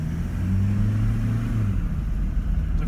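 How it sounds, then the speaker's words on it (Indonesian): A new Toyota Fortuner's engine rumbles roughly in first gear, a close, continuous deep drone with a gritty texture and a slight rise in revs, with no voices. "Tuh, bisa dilihat kan suara mesin yang cukup kasar,"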